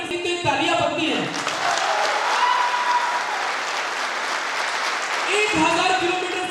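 Steady applause from a large event audience, dense and sustained for several seconds, with a voice speaking over the clapping at the start and again near the end.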